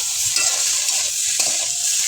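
Chopped dimer shak greens being stirred in a hot pan for a shak chingri chorchori: a loud, close, steady hiss of frying, with a few soft scrapes of the spatula and no voices.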